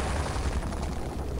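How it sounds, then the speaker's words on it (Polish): Grenade exploding in the player's hand in Return to Castle Wolfenstein: a loud, rumbling blast of noise that fills the whole short moment with no pause. "Wybuchłem granata w ręce."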